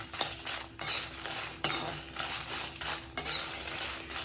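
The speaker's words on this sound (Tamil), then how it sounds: "அதில் இப்போது காஞ்ச மிளகாவை போட்டுக்கலாம்" Dried red chillies, including Kashmiri chillies, tumbling into a metal pan for roasting, giving several crisp clinks and rattles in irregular bursts, close and moderately loud with no talk.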